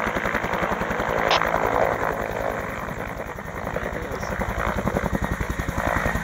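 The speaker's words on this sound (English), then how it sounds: "There's the helicopter." A helicopter in a snowy area, its steady rapid rotor chop and engine drone loud and close throughout, with no talk over it.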